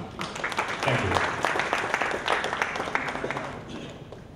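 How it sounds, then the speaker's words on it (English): Guests at a welcome dinner for KLRTC 2015 in Kuala Lumpur clap in a big room. The moderately loud applause is busy and uneven, mixed with murmuring and low room noise, and swells slightly near the end. "a big rapturous round of applause to all of you over here"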